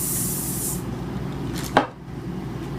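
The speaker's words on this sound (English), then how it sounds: "I like to spray mine" A short hiss of Sebastian hair spray at the start, then a quick sharp rustle about halfway through, close by, with steady low background noise throughout.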